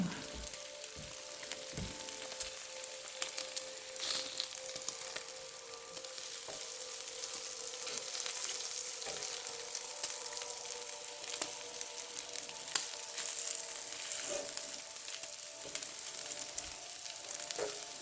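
Butcher Box bacon sizzles and crackles steadily in a hot pan, a dense, close hiss with scattered pops throughout.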